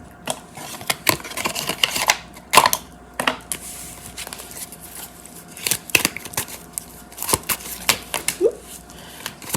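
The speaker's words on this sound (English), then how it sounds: "Alas, a deck that I can shuffle." A tarot deck is shuffled by hand in a quiet room, giving irregular crisp riffles and soft card slaps, with some louder snaps in between and no talking.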